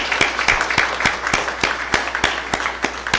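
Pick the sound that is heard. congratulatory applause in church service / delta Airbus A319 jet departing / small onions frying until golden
congratulatory applause in church service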